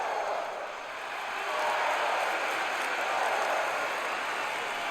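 Arena crowd cheering in the wrestling game WWE 2K25 during a Friday Night SmackDown match, a steady wash of applause and roaring that swells slightly midway and continues without any voices standing out.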